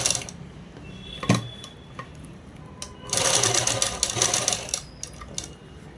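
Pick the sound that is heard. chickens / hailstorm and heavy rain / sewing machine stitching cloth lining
sewing machine stitching cloth lining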